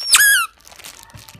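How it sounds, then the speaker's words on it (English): A strawberry-shaped squishy toy from Taiwan lets out one loud, close, high-pitched squeak when squeezed, followed by near silence. "And my squishy has a very loud noise."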